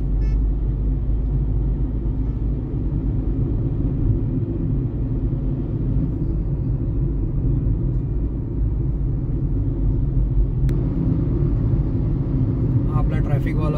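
A car rolls through traffic in Baner, Pune, its engine and road noise forming a steady low rumble inside the cabin, with a brief sharp click and some higher chatter near the end.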